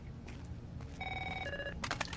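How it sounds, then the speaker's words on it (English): A phone rings in the video game Rainbow Six Vegas 2, a short electronic two-tone trill faintly heard over a low steady game background. "Phone's ringing."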